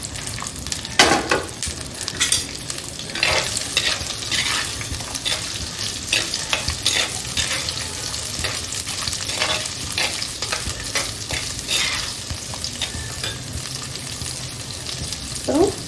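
Shallots and garlic fry in oil inside a clay mud pot for chicken gravy, a steady crackling sizzle with scraping stirs and spoon clinks throughout, close and continuous with no talking.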